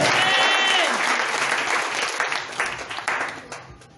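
A church congregation bursts into loud, dense applause to acclaim Jesus during a sermon, the clapping full and sustained before gradually thinning out and fading toward the end.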